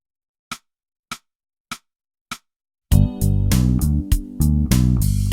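Four evenly spaced count-in clicks give way to a loud, driving bass guitar line of punchy repeated notes with steady drums underneath.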